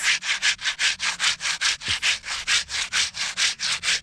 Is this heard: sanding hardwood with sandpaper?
yes